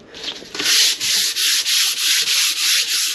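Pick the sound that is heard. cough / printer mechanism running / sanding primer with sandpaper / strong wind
sanding primer with sandpaper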